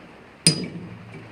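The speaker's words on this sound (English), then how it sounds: "I can usually hit them with the hammer and they'll pop right off." A hammer strikes a part in a workshop to knock it off, a single sharp metallic whack with a short ringing tail after a quiet lead-in.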